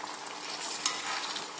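Chicken for a crispy chicken fry sizzles and crackles steadily in hot oil as it is gently stirred, a continuous close frying hiss with small pops and no talking.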